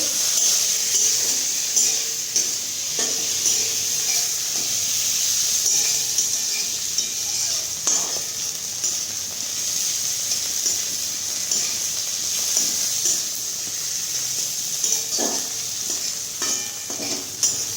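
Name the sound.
stirring egg curry frying in a pan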